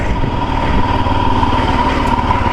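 A Royal Enfield Himalayan adventure motorcycle engine runs steadily while riding, a loud, close, even drone with a rapid pulsing thrum and no talk.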